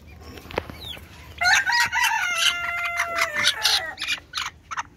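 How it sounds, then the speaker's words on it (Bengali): A Malaysian Serama chicken, a tiny bantam, clucks once, then crows in a bright, high, fairly loud burst followed by choppy clucks, close by over faint background noise. "এই হচ্ছে মালয়েশিয়ান শোরশেরেমা।"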